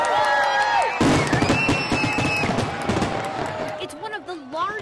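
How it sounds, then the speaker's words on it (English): A lakefront Independence Day fireworks show pops and crackles in rapid bursts while a crowd cheers and whistles, with voices mixed in throughout. "It's one of the largest fireworks shows celebrating Independence Day in the Midwest."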